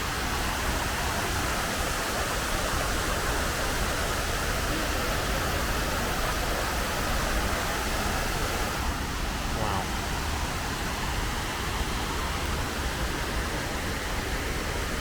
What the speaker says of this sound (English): This one, the water's running.